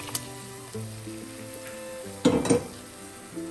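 Sizzling fish curry base in a pan as soaked kudampuli is added, soft steady frying under background music with a brief louder clatter and splash partway through.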